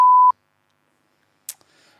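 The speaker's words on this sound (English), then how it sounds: "Beep, beep, beep, beep." A short censor beep sounds as a single steady tone, loud and clean, followed by silence and then a faint brief noise.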